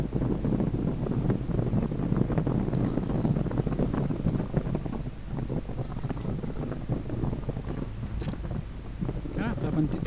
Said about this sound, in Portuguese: tá ventania para esses lados.